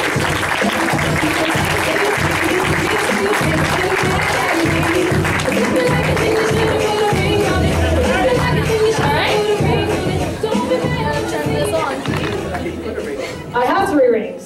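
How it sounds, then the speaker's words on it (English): Audience applause with cheering and crowd chatter for a woman taking the stage at a training event, sustained and loud with voices mixed in throughout. "So let's go ahead and give her a round of applause."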